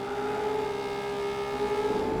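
Shelby Cobra engine in the racing game Gran Turismo 4 drones steadily at a sustained pitch with a strong tonal hum, loud and close, with no talk over it.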